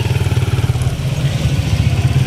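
A motorcycle engine idles up close, a steady low chugging throb with a little clatter running through the whole stretch, loud and continuous with no voices.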